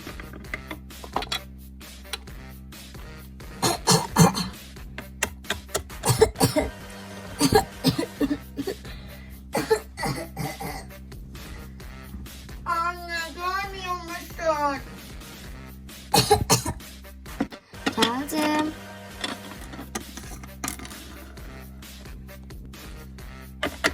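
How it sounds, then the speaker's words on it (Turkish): Several people cough in a children's cartoon set in a hospital, with repeated bursts of coughing and throat clearing scattered among talking voices and background music. "Siz öksürüksünüz."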